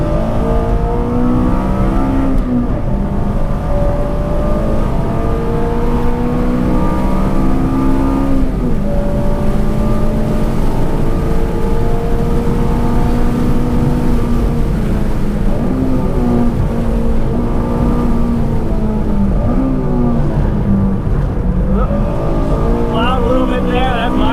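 Honda Civic Si being driven hard on a track, its engine droning loud and steady with rising and falling harmonics as the revs shift through corners, the engine note continuous throughout with no voices over it.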